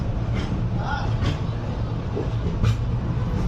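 12604 Chennai SF Express moving slowly out of Charlapalli station onto the main line, a low steady rolling rumble with faint squeals and knocks, fairly quiet and even throughout.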